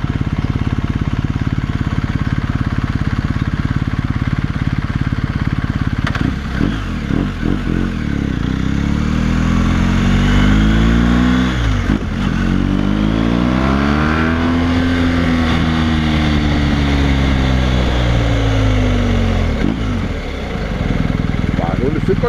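A BMW GS1250 motorcycle fitted with a Dominator Racing GP1 exhaust idles loudly, then revs up and down in several long rising and falling sweeps, close by with a steady rumble underneath.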